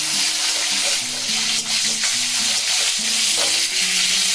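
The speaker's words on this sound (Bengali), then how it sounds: "একটা শুকনো লঙ্কা, একটা তেজপাতা, দিয়ে দিচ্ছি একটা টমেটো।" A tomato, a dried red chili and a bay leaf frying in a pan with poppy seeds and nigella, giving a loud, continuous hissing sizzle with soft stirring scrapes, close up and without speech.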